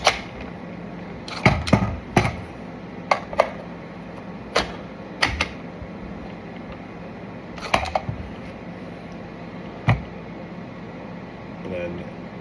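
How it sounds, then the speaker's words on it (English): Magazine dropping out of a firearm during dry-fire practice with an FTE 217 rifle: a series of sharp metallic clacks and clicks, some doubled, spaced irregularly over a steady background hum, close and fairly loud, with no talking. "Do a magazine drop."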